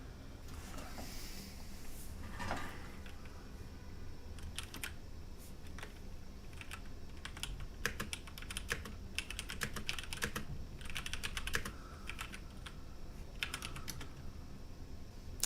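Typing on a Das X40 mechanical gaming keyboard with removable face plates: steady, fairly quiet key clicks in irregular rapid bursts, heard close with no voices.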